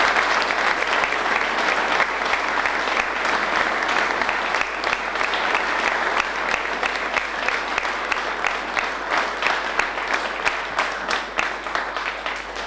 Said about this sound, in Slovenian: izvolite z aplavzom jih pospremimo